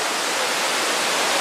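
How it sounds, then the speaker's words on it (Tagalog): Powerful waterfalls at Wulong, swollen by rainfall, roar as a broad, unbroken rush of falling water, loud and constant throughout. "Medyo malakas yung mga waterfalls ngayon dahil umuulan."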